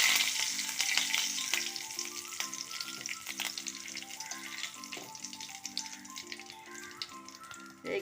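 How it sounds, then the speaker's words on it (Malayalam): A sprig of curry leaves hits hot oil full of popped mustard seeds for a carrot pickle, bursting into a loud, hissing sizzle that slowly settles, with scattered crackles throughout. "കടുക് പൊട്ടിയതിലേക്ക് 1 തണ്ട് കറിവേപ്പില."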